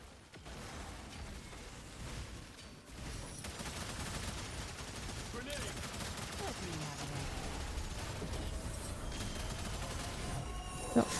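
Sustained gunfire in a video game, with overlapping bursts and scattered shots running steadily through the scene at moderate distance, mixed with other game effects and no talk over it.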